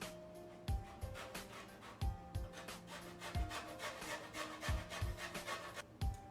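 A lemon's skin is zested in a kitchen, heard as quiet, close rasping scrapes in a loose rhythm, with soft knocks as the zester or lemon is set down between strokes.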